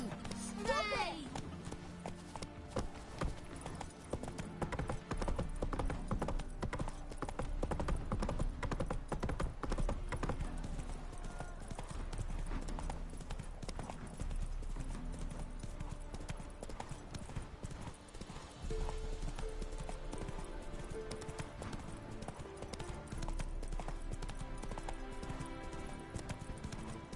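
Horse Roach gallops with steady, rhythmic clip-clop hoofbeats throughout, in The Witcher 3 game, loud and close under a dense layer of music and game sound, with voices talking over it at points.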